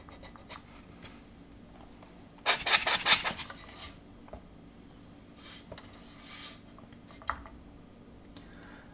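Short bursts of sharp scraping as a scribed line is cleaned out on a plastic MPC 1/24 General Lee model kit body, with a loud cluster of strokes followed by fainter scratches and quiet gaps.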